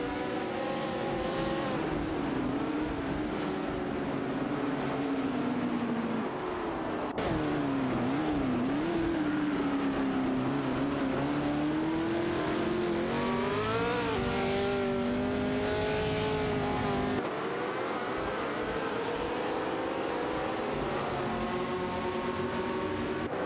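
Race car engines in an AI racing video game, several cars droning side by side with rising and falling pitch as they shift and brake toward a turn, loud and continuous with no talk.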